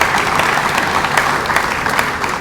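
An audience at a football touchdown club season kickoff event breaks into steady, dense clapping that carries on evenly with no pauses, filling the room at close range.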